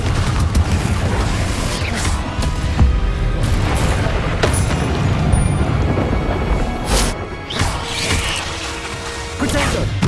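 Repeated Confringo blasting-spell explosions go off in Hogwarts Legacy amid continuous loud combat noise, with booming crashes and sharp cracks spread throughout and a few stronger bursts near the middle and end.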